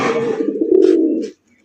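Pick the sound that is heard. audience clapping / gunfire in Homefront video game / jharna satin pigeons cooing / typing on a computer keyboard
jharna satin pigeons cooing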